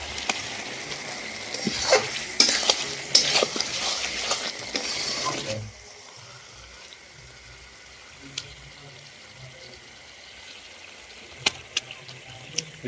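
Chicken curry meat is stirred and fried in a pan, with scraping strokes and clatter over a sizzle for several seconds, then a quieter, steady fry broken by a few sharp taps of the utensil.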